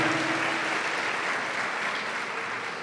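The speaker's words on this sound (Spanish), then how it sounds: "denle un aplauso a la gloria de Dios" Church congregation applauding to give glory to God, a steady dense wash of clapping from many hands that holds evenly for a few seconds in a large room.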